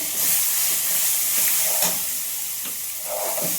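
Loud, hissing sizzle of tempering spices and coriander in hot oil for coconut chutney, continuous and close, with faint stirring knocks underneath.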